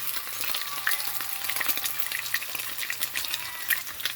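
Salmon fries skin side down in a pan with a steady, close crackling sizzle that carries on throughout the clip, with no voices.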